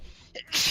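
A single short, sharp sneeze bursts out near the end of a brief quiet moment at a tabletop Dungeons & Dragons game session.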